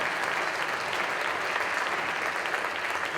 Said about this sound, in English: Can we hear one more round of applause for all of our performers?